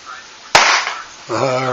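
A party popper goes off with one sharp, close snap at a New Year's Eve celebration, followed by noisy rustle and then voices talking.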